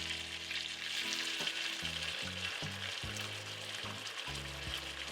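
Curry sauce sizzling in a saute pan with salmon: a steady, close hiss of frying with soft bubbling and occasional clinks and scrapes of stirring, no voices.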